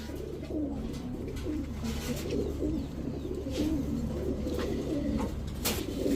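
Pakistani teddy racer pigeons, kept in mated pairs, coo steadily close by, with overlapping throaty calls and occasional faint rustles.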